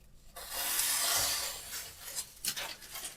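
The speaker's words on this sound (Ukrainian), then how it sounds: "Прислухайтесь. Дуже добре ріже, ніж." A freshly sharpened Wak VG10 steel knife slices through material with a single sustained rasping cut, close and fairly quiet, followed by a few shorter scraping strokes; no talking.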